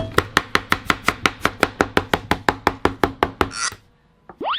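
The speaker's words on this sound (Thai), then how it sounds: "เดี๋ยวจะโชว์สเต็ปครับทุกคนดู" Knife chopping potatoes on a cutting board for giant cheese-topped French fries: about twenty fast, evenly spaced sharp thuds in a steady rhythm, close and loud, then a brief rustle and short squeaky sounds after a pause.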